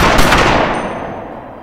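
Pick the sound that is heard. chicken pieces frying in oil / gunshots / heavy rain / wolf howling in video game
gunshots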